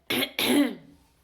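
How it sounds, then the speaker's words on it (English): Two quick, harsh coughs close up, the second longer and trailing off into a raspy breath. "Cough, definitely."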